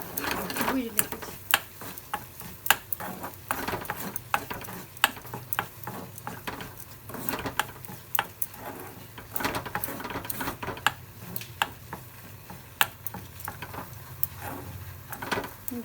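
Semolina and sugar are stirred and dry-roasted in a pan for sooji ker mithai, a spoon scraping in steady irregular clicks and scratches close by, with a faint background hum.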